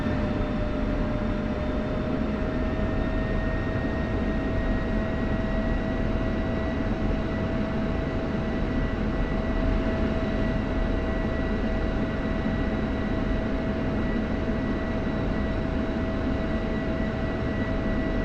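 F-16 fighter jet taxiing on an airfield taxiway, a steady loud engine drone and whine with constant tonal hum held throughout, no pauses or changes in level.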